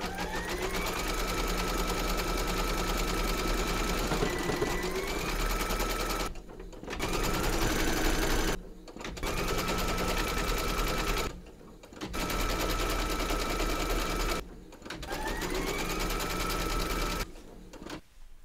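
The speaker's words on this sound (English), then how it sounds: "Load your thread colour for the whiskers into your machine and then stitch round number 8" A sewing machine stitches bunny whiskers in white thread, a loud, steady whirring run broken by four short pauses before restarting, close and alone without voices.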